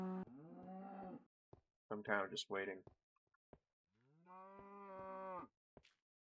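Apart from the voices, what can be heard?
cows mooing in the video game Minecraft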